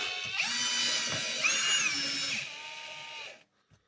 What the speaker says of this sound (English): Pardon my drill.